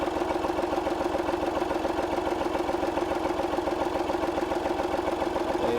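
Massey Ferguson 135 tractor engine idling, a steady close chugging diesel rumble with rapid regular knocking pulses and a slight twittering rattle, running alone without talk.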